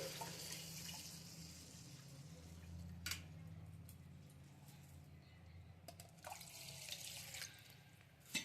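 Water swishes and trickles softly as cumin seeds are rinsed and washed in a bowl, with quiet drips and splashes throughout.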